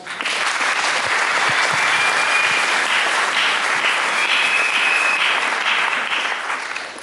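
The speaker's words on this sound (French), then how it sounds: "Est-ce que tu peux l'accueillir avec beaucoup d'acclamation?" A church congregation breaks into loud sustained applause and acclamation, thick clapping swelling quickly and holding steady for about seven seconds, with whistles or shouts faintly threaded through before easing slightly at the end.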